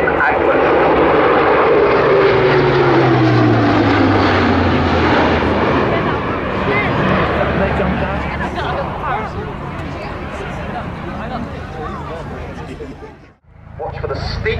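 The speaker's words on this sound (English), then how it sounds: "here's the chance now as to finish the Falcons display is a fast low flight pass A400M Agulent." An Airbus A400M turboprop military transport makes a fast, low flying pass at an air display. Its loud, close propeller roar sweeps downward in pitch as it passes, then stays as a rumbling drone that dips briefly near the end.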